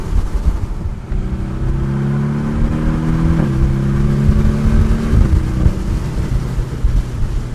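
A turbocharged 2017 Porsche 718 Boxster S cabriolet accelerates steadily, its engine note climbing through the revs in a smooth, continuous drone with rising harmonic tones, close and loud throughout.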